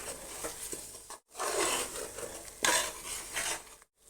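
A utensil scrapes and clinks against a pan while stirring in ground coconut for tomato biryani, in short bursts, with a faint sizzle underneath and brief pauses between strokes.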